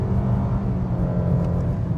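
A 2025 Mitsubishi Outlander SEL S-AWC SUV accelerating hard on a test run, its engine a loud, steady low rumble and whir heard from inside.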